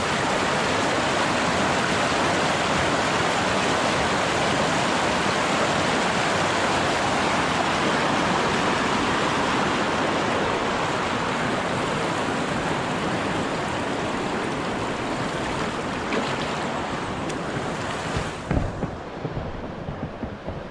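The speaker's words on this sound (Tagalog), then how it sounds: "Fresh yung tunog ng ano, tubig." Cold water of the Sibuan River rushes in a loud, unbroken roar, a dense, steady wash of flowing water close by that eases slightly near the end.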